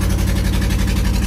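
The engine of a used car with its check-engine light on idles steadily just after being started, a close, loud, even low rumble with a regular pulsing rhythm.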